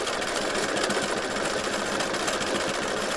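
A sewing machine runs fast and continuously, sewing a straight stitch scallop around a circle, with a dense, even motor whir and rapid needle chatter close up throughout.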